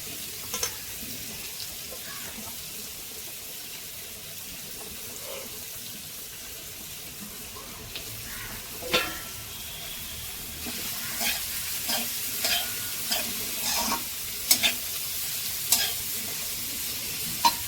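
Amaranth greens stir-fried in a pan without added water: a steady sizzle builds gradually, joined later by repeated sharp scrapes and taps of a spatula stirring.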